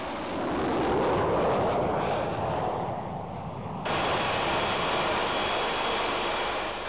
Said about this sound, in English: Take-off for a conventional training mission of a Mirage 2000N.